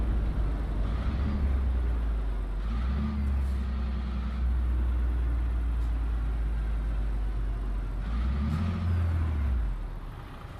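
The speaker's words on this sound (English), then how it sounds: "This truck sounds awesome, dude." A large truck engine idling with a deep, steady rumble, swelling briefly a couple of times as if revved lightly, close by with no talking.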